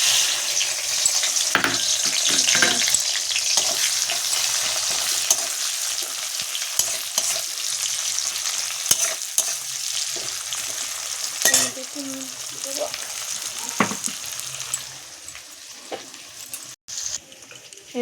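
Onion sizzles in hot oil with cumin seeds and dried chili, a steady bright crackle and hiss running throughout, with occasional stirring clinks and scrapes in the pan.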